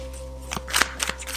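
Tarot cards being shuffled by hand, quick riffling bursts of papery flicks and snaps in short clusters, close and fairly soft over a faint steady hum, with no voices.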